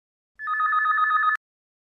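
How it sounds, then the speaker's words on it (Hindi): A telephone bell ringing indoors, one continuous electronic trill lasting about a second, loud and clean with silence on either side. "जरा फोन देख।"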